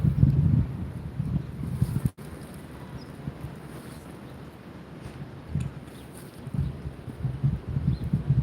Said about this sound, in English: A lot of wind to make this a natural presentation today.